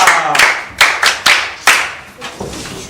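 Several loud, sharp handclaps from a small group of pupils in a classroom come in uneven bursts, each fading quickly, close by.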